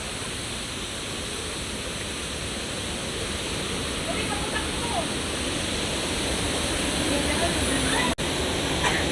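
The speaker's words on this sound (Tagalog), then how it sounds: "Tinuyan Falls." Tinuyan Falls, a waterfall, roars as a loud, steady wash of falling water that fills the whole scene, with one brief knock near the end.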